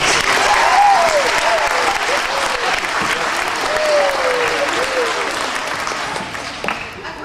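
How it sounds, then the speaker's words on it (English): A crowd of students' audience claps in a sustained round of applause at a school community event, steady and fairly loud throughout, with a few voices and whoops rising over the clapping before it thins slightly near the end. "Let's give another round of applause to the students."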